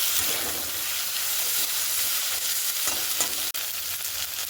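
Potatoes stirred into fried onion and garlic in a pan, making a broad steady hiss and sizzle with soft scraping from the stirring, close and continuous, with one brief sharp knock near the end and no voices.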